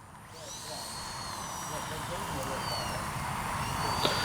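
Small electric ducted fan of an FlyFans Baltic Bees L-39 RC jet: a steady, loud rushing whine with a high-pitched tonal edge, holding constant and slightly building over a few seconds.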